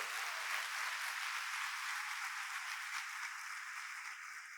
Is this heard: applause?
yes